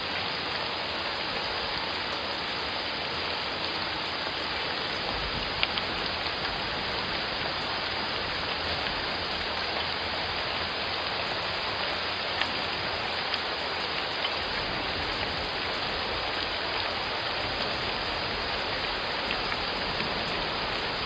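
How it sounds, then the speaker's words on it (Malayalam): Heavy continuous rain pours down in a dense, even hiss that stays steady and loud throughout, with faint scattered drips and no voices. "4 ദിവസമായിട്ട് മഴ ഇങ്ങനെ നിർത്താതെ പെയ്തുകൊണ്ടിരിക്കുകയാണല്ലോ."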